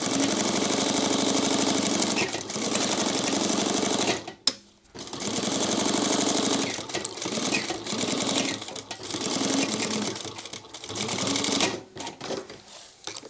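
Sewing machine stitching around the perimeter of a sling crossbody bag panel in the seam allowance, a steady close whirring run that stops briefly partway and then continues, with no voices.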